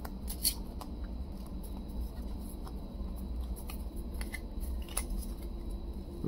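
Soft, quick riffling and flicking of Redakai trading cards being shuffled, close and quiet, with light ticks and no voices.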